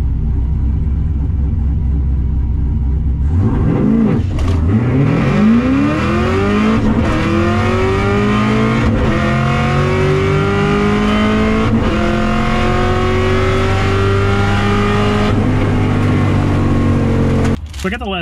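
A turbocharged drag car launches off boost without a two-step and pulls hard down the strip, engine note climbing steadily through the gears with brief shift dips over roughly fifteen seconds, loud and close throughout.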